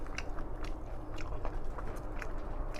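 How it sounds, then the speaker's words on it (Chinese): Someone bites and chews crispy fried bullfrog coated in flour and egg, close and steady crunching with irregular bites for a few seconds and no talking. "吃块牛蛙的排骨"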